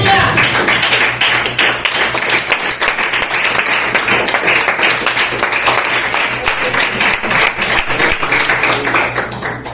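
A church congregation claps in a loud, sustained round of applause that holds steady for about ten seconds, dense and close with no voices rising above it.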